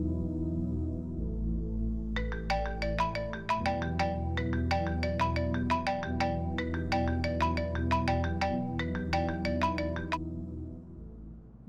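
A phone ringtone plays alone, a bright repeating electronic melody in quick regular bursts that carries on for about eight seconds over a low hum, with no talk.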